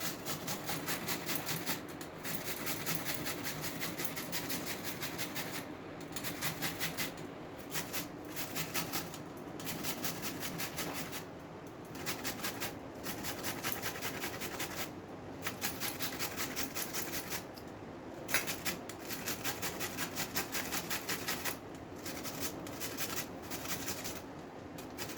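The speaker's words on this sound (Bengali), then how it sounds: "পেঁয়াজটাকে বাটবো না, এই যে ঘষে নেবো বলেছি, তাই এটা ঘষে নিচ্ছি।" A raw onion is rubbed by hand over a grater for a fish-roe potato and pointed gourd dish. A steady scraping rasp repeats in quick strokes with short pauses between them, close and alone.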